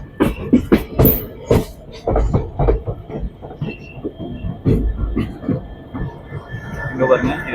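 A passenger train on the Muthampatti to Bangalore route slows as it nears Sivadi railway station, its low rumble and faint rail clatter running steadily beneath near, continuous talk.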